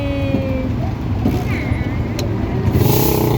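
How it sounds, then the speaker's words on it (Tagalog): Dense road traffic on a bridge, with a steady roar of cars and larger vehicles passing close by, a brief brake hiss, and a voice speaking over it now and then. "Traffic, oh."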